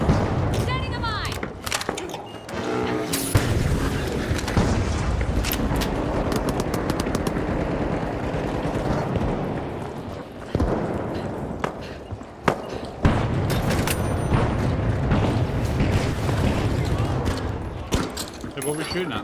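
Automated turret fire in a video game, rapid bursts of machine-gun shots crackling loudly over a busy battle soundscape, with thuds and mechanical clatter, while a person talks over the action.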